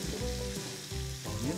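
Onion rings frying in hot oil, a close, continuous crackling sizzle with a stirring scrape and a low pulsing hum underneath, no voices.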